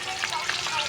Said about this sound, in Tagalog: piniprito na lang para gusto ng mga bata kasi prito lang